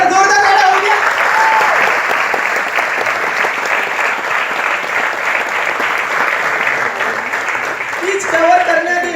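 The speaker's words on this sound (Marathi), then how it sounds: "एकदा जोरदार टाळ्या होऊ द्या" A crowd at a company stage event breaks into loud, sustained applause that continues steadily for several seconds, with voices briefly audible at the start and end.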